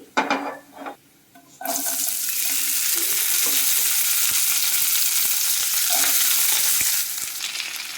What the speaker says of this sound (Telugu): మొత్తం అన్నీ వేస్తానండి బాగా ఫ్రై చేసుకోవాలి